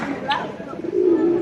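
Pigeons cooing in Taormina, Sicily, a low soft coo drawn out near the end of a short stretch, mixed with a brief higher chirp and faint background voices.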